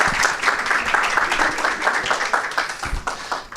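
An audience at a university radio and podcast session claps warmly to welcome a speaker, with dense, continuous applause from many hands and no talking.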